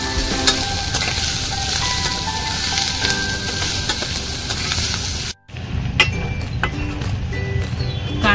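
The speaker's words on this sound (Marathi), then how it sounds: "लसूण, आपण चांगले परतून घेऊ।" Garlic sizzles steadily as it is sautéed in a hot pan, a dense crackling hiss with a few stirring clinks and one brief break partway through.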